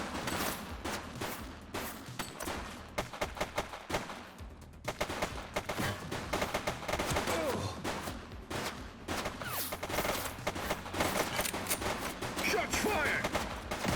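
Gunfire erupts in a police shootout in The Precinct, a dense run of loud, rapid shots and bursts in clusters with short lulls, mixed with indistinct shouting voices.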